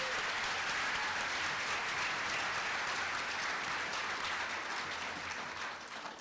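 Sustained applause from a large crowd at a nursing white coat ceremony, dense and even, fading slightly at the very end.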